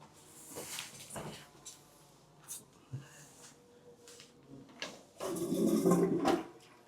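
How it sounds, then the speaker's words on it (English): A weak toilet flush in a beach resort bathroom in La Union, a rising rush of water near the end after quiet bathroom handling noises, with people talking briefly. "Let's see the flush."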